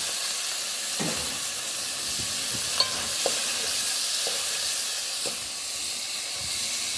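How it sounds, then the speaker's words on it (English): Saltfish fries in a pot of Jamaican seafood stewed peas with a loud, continuous sizzling hiss, while scattered soft knocks and scrapes from stirring sound throughout. "You want to fry that up a little."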